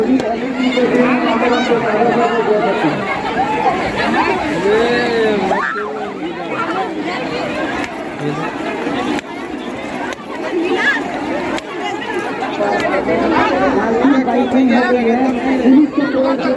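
A large crowd gathered at the miraculous Pendri pond keeps up a dense, steady hubbub of overlapping voices and chatter, loud and close throughout with no single voice standing out.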